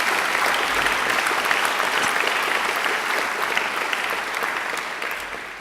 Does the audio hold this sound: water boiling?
no